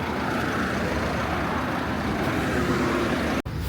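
A car drives along a highway on a long road trip from Pune toward Ladakh. The engine and tyres make a steady, loud roar that covers the whole stretch, with one very brief dip near the end.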